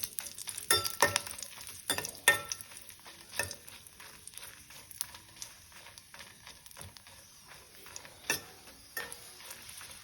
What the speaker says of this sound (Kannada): ಹಾಗೆ ಒಣಮೆಣಸನ್ನು ಹಾಕೊಂಡಿದ್ದೇನೆ